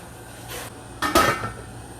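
A metal lid set onto a pot of salted chayote tendrils boiling on the stove, heard as a brief, close clatter and clink over a quiet background.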